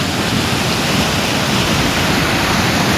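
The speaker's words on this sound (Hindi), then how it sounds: "बर्फ़ पिघल रही है पहाड़ों में, तो वो पानी भी आ रहा है, इसलिए पानी बहुत ज़्यादा है।" Himalayan mountain stream running high with snowmelt water, a loud, close, continuous rushing roar with no breaks and no voices.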